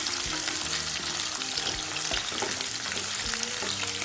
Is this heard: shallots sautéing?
yes